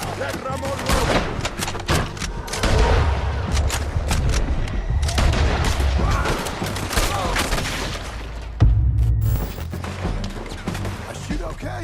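Rapid gunfire in the video game Red Dead Redemption 2, dense volleys and booming shots cracking throughout a chaotic firefight, with a sharp loud burst near the end and shouting voices mixed in.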